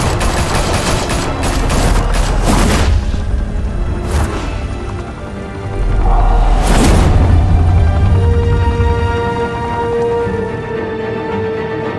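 Gunfire in Batman: The Telltale Series, loud bursts of automatic shots and heavy bangs in a tense shootout, separated by brief lulls and punctuated by sharp impacts and ringing tones.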